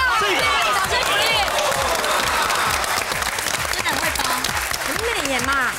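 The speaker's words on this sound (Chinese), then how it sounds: "这个掌声鼓励" Applause from a studio audience at a cooking show, dense clapping with a crowd murmur, while excited voices and laughter run loudly over it throughout.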